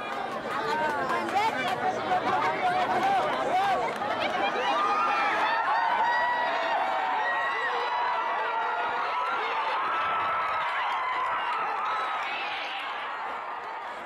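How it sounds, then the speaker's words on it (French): A village crowd shouts and yells at a bull game in Tanzania: dense, excited babble with sharp cries, close and loud throughout, easing slightly at the end. "chaque charge du taureau déclenche des cris et des mouvements de foule"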